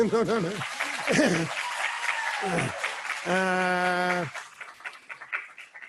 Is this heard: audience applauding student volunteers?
yes